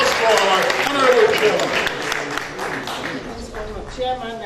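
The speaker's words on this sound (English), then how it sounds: "Give a round of applause for our Honorable" An audience applauds an honorable guest, a dense patter of many hands clapping at moderate loudness that fades gradually, with a voice speaking over it.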